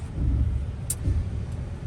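A RAM car with a fuel problem drives along, its engine a steady low rumble with faint road noise, close and continuous throughout.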